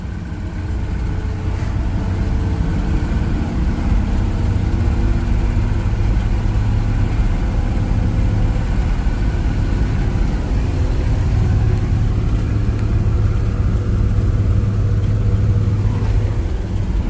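A 1949 Chevrolet 3600 pickup truck engine runs steadily while driving, giving a continuous loud, low rumbling drone throughout with no talking.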